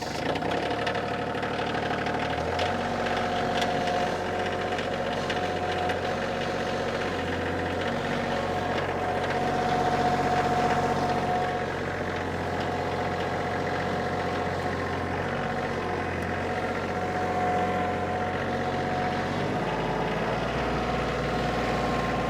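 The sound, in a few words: Kioti CK2610 HST tractor engine starting and running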